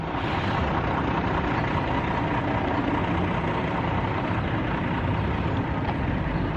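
A truck engine idles close by, a steady, unbroken low rumble with a broad wash of mechanical noise that holds at an even level for the whole stretch.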